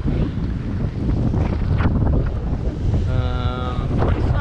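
Strong gusting wind of 20 to 30 knots over a sailboat on Lake Michigan, a loud continuous roar and buffeting across the microphone, with a brief tonal creak partway through.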